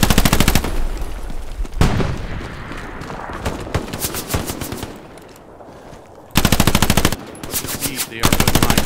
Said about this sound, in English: Automatic weapon.